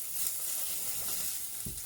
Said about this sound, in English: I'm just going to give that a little stir around